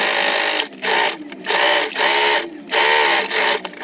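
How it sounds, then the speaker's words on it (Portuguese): Sewing machine stitching a seam through fabric lining on a milk-carton pencil case, loud close rapid running in several bursts with brief pauses between them. "eu vou vir aqui pelo lado do forro e vou fazer uma costura bem em cima dessa costura"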